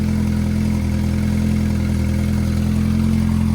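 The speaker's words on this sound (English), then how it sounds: "Looks like we have a little exhaust leak" Turbocharged Honda Civic engine with a small exhaust leak running steadily up close, a loud continuous low idle drone with a faint ticking pulse, no voices.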